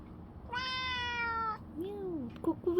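Midnight, a cat waiting at the front door, gives one clear, drawn-out meow close by, then a person starts speaking softly right after.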